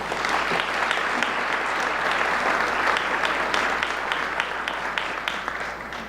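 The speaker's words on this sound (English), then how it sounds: "Let's give him another round of applause." Audience at the Conway Chamber of Commerce 2022 annual meeting and awards celebration applauds steadily, a dense, even wash of clapping from a large room that holds for about six seconds.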